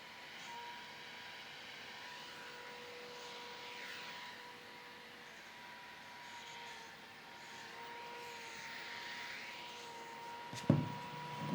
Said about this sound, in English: This is the noise test for the Zhiyun M40 portable LED light.